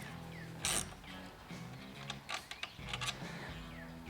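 Small mechanical clicks and ratcheting come from a 12 mm nut being worked loose on a Honda Grom motorcycle rearset, with several brief bursts spread across a quiet shop background and no talking.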